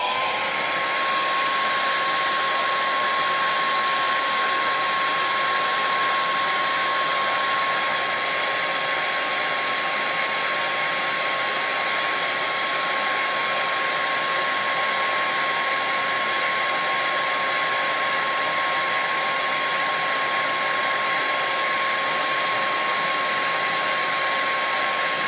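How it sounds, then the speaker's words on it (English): A hair dryer blows steadily on the face of a version 1.0 Mattel Grogu doll to heat the vinyl. The whirring hiss is constant and close and continues alone without a break. "All right, hairdryer. Now I'm just going to heat the front of his face"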